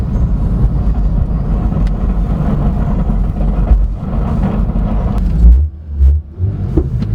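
A 2016 Porsche 911 GT3 RS (991.1) engine gives a loud, steady low rumble as throttle is applied, with a brief heavier surge near the end.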